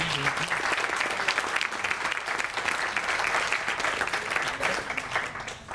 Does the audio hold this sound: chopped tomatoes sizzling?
no